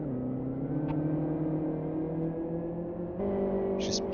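Race car engines from the game Live for Speed during a Coil Cup final at South City drone steadily with layered harmonic whine, one car's pitch stepping up near the end, loud and continuous with no talk.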